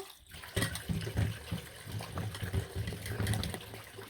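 Fish lentils being mixed with water by hand in a bowl, giving close, faint sloshing and swirling liquid sounds in short uneven bursts, with no voices.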